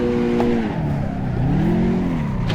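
A car engine revs and drones through a shifting pitch as the driver spins out while drifting a figure eight, loud and close with a brief tire squeal, no voices.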